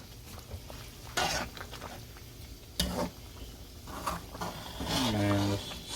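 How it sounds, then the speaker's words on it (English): Oxtail and potatoes stirred in a cooking pot, with uneven scraping and clinking of a utensil against metal and a faint sizzle, close by, with a brief voice-like tone near the end. "now we're going to go ahead and give it a stir."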